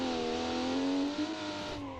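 A video game car's inline-six turbo engine revs steadily, a loud sustained harmonic drone that rises and settles, with no voices.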